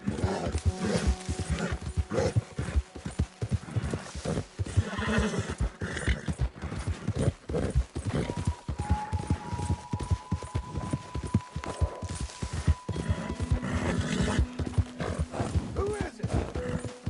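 Horses in Red Dead Redemption 2 clop along with steady rhythmic hoofbeats, while a horse whinnies and neighs over people talking throughout.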